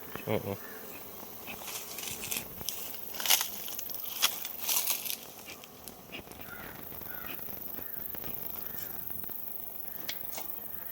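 Honeybees at a beehive on a bee farm in Kottayam buzz steadily during frame handling, a close, continuous insect hum with knocks and rustles from the hive, with occasional speech nearby.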